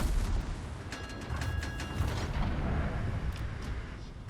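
A naval gun salvo from the cruiser Collingwood in the World of Warships video game: a deep, rolling rumble of heavy fire with brief mechanical tones and pops, held at a steady level.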